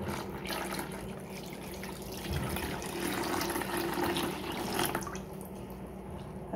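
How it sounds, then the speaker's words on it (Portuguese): Bleach is poured into a container holding sugar, a continuous close liquid stream that swells and fades over several seconds, alone without talk. "Vou colocar 500 ml de água sanitária."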